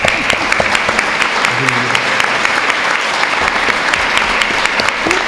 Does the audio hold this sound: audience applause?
yes